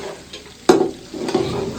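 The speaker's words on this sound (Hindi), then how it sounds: "हम पकोड़े वाली कढ़ाई में जो है ना घी ऐड करना शुरू कर दिया है" Ghee going into a kadhai used for frying pakoras: a sudden bright clatter and splash, then a soft rising sizzle and stirring scrape close by, with no talking.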